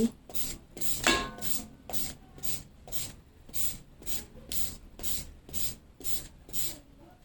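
Papaya is shredded on a new papaya scraper, giving a quiet, steady series of about a dozen rhythmic rasping strokes, each a short scratchy swipe repeated evenly.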